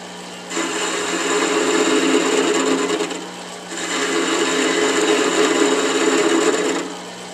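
A wood lathe turns a segmented vase blank at about 500 RPM, a loud steady whirring drone that rises in two long stretches of cutting noise, easing briefly between them.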